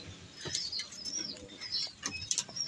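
A racing pigeon arrives at its loft, wings flapping in brief bursts amid soft coos and chirps from other birds, fairly close and with no voices.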